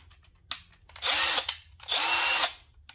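A Milwaukee 2565-20 brushless right-angle 1/2 inch impact wrench run in two loud, close bursts of roughly half a second each, with a brief click just before.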